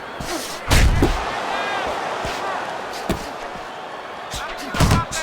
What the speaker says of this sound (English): Solid left hand to the head.